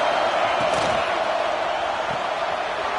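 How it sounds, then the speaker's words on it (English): A large college football stadium crowd at an ASU versus Ohio State game roars steadily, a dense, loud wash of voices and cheering that holds without pause throughout. "Listen to the crowd energy here in the early going"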